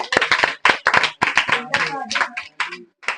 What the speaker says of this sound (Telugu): సూపర్ క్లాప్స్ కొట్టండి